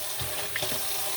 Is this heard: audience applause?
no